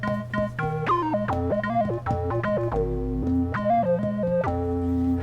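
Keyboard presets from a free VST synth play a run of bright sustained notes and chords that shift in pitch, steady and fairly loud throughout with no talking.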